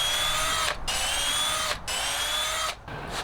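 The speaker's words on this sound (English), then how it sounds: "Next thing I'll do is I'll hold this piece in place. That'll give me an idea where I need to pre-drill it." A power drill whines steadily while pre-drilling a hole for a truck camper tie-down piece, running in three close bursts with brief pauses between them.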